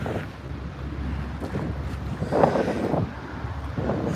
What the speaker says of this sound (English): Winds are, I say, gusting at 20, 25 right now at strongest.